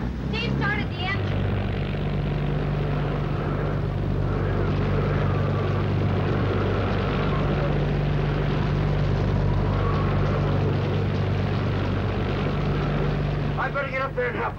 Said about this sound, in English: Steve started the engine.